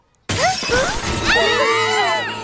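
Cartoon glass window shattering in a loud, sudden crash of breaking shards that rings and scatters for about two seconds, with voices mixed in.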